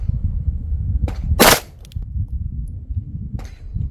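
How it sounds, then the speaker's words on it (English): A Remington Golden Saber handgun round fires through a chronograph outdoors, one sharp, loud crack followed by a fainter echo, with lighter clicks and a low background rumble around it. "five rounds through the chronograph."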